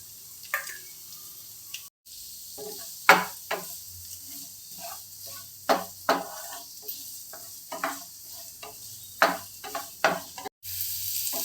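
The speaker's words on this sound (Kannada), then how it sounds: "ಈಗ ಸ್ವಲ್ಪ ಫ್ರೈ ಮಾಡ್ಕೊಳ್ಳೋಣ ಈಗ ಹಸಿಮೆಣಸಿನ್ಕಾಯಿ ಮತ್ತು ಈರುಳ್ಳಿ ಹಾಕ್ತಾ ಇದ್ದೀನಿ" Green chilies and onion hit hot oil in a pan with curry leaves for a sweet potato fry, giving a steady close sizzle broken by sharp scrapes and clacks of stirring.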